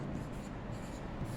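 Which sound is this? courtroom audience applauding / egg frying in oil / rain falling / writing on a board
writing on a board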